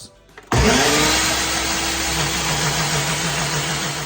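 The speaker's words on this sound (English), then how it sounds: "this is my power blender, and blend until smooth" A power blender blending ginger starts abruptly and then runs steadily at high speed, a loud continuous whirring roar with no talking.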